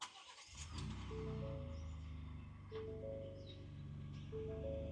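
2024 Ford Ranger Raptor engine cranks briefly, then catches and settles into a steady, close idle that continues to the end.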